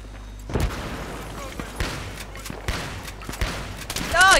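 Several sharp, booming M870 shotgun shots go off in irregular succession in Battlefield 3, punchy and close, with game sounds and a voice mixed in.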